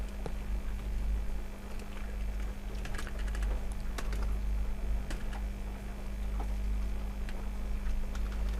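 Someone types on a computer keyboard close by, a steady patter of quick key clicks over a constant low electrical hum.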